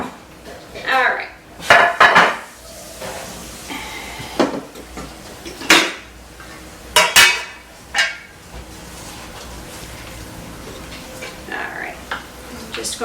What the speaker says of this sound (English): Just going to scoop this cheese up and just mix this all in with the noodles